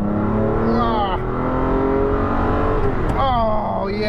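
Fuel-injected Ferrari 512 BBi engine pulling hard in second gear, a loud, rich rising wail that sweeps upward, dips briefly at a shift and climbs again, close and dominant.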